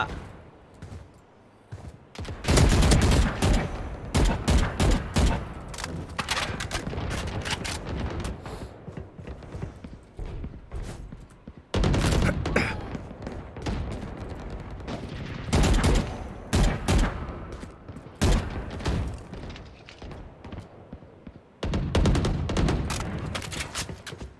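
Rapid bursts of video-game gunfire, loud and close, fire in dense volleys separated by short pauses across the whole stretch, with no talking over them.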